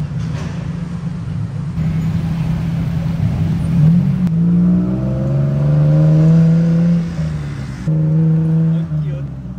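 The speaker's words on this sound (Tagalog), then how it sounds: "So, nakasakay na kami ng tuk-tuk." Tuk-tuk ride through Thailand traffic, its small engine droning steadily and rising in pitch as it accelerates, loud and close throughout, with brief shifts as the vehicle changes speed.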